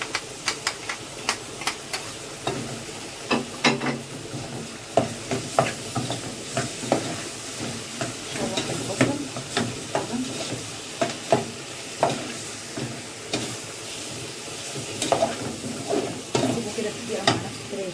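Onions and hot green peppers sizzle softly in a pan while being stirred, with repeated scraping strokes and light clinks over a steady quiet hiss.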